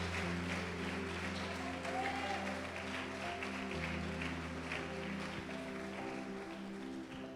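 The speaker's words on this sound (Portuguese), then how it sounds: "Você pode aplaudir o Senhor Jesus por isso?" Church congregation applause during a Portuguese-language sermon, steady clapping from the worshippers over a sustained organ or keyboard drone, fairly faint but continuous.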